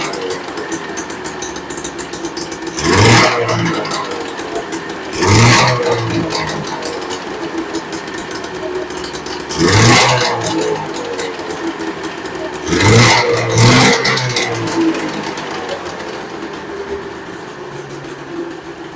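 Terra-jet all-terrain vehicle engine idling with four loud, separate revving bursts spread evenly across the clip, close by, with brief voices in between.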